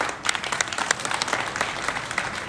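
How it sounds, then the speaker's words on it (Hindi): Applause breaks out from a crowd at a spiritual gathering, a dense run of clapping at steady moderate volume for a couple of seconds. "वाह, तालियां भाई।"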